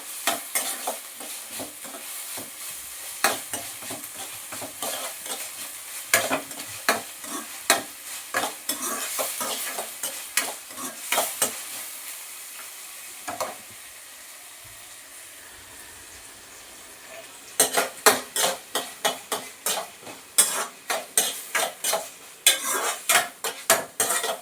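Spoon scrapes and taps repeatedly against a pan while the base for ridge gourd curry fries, a soft sizzle beneath rhythmic stirring clatter that pauses midway and then resumes.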